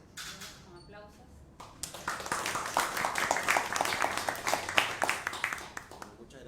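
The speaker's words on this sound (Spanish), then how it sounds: "Con aplausos." Applause from an audience at a Spanish-language book presentation, starting softly and swelling into dense, sustained clapping for several seconds after a brief opening voice.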